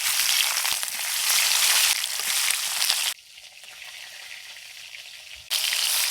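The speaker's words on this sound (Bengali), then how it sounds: "বাকি মাছগুলো ভেজে নেব।" Remaining katla fish pieces fry in oil in a wok with a steady, loud sizzling hiss that briefly softens midway, then surges again, with no talk over it.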